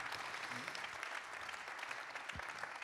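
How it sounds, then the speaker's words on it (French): An audience at the 89th ADF congress applauds after a testimony, a continuous, fairly soft rain of many hands clapping at an even level throughout. "merci, on peut vous applaudir"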